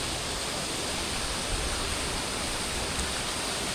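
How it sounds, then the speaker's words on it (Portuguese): Waterfall at Bonito, Mato Grosso do Sul, Brazil, heard up close as a steady, loud, broadband rush of falling water with no breaks. "Eu vou chegar ali embaixo da cachoeira agora."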